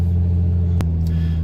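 A Toyota Tacoma truck rolls off pavement onto dirt, its engine humming low and steady up close, with a sharp knock partway through and a faint change in road noise afterward.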